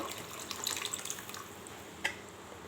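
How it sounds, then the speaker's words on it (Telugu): Water pours into a pot of toor dal cooking with tamarind juice, a faint, light trickle with a few small splashes and one brief clink near the end. "అలాగే పప్పుకు సరిపడా వాటర్ కూడా వేసేసుకుందాము."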